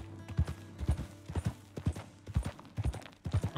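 An elite Arabian horse in Red Dead Redemption 2 clip-clops along in a steady, even rhythm of distinct hoofbeats, close and clear with no talking over them.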